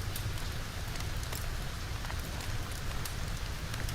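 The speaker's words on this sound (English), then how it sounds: "I know it's still raining." Steady rain falling in a dense, even patter with scattered brighter drops, continuous and moderately quiet with no voices.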